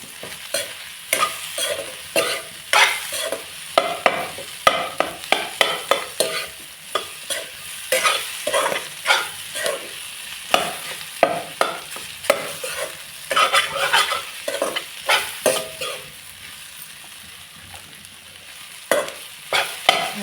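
Vegetables being stirred and sautéed with salt in a pan for a Malvani-style veg thali, with steady sizzling and frying under frequent scraping, clattering strokes of a spoon, close and continuous throughout.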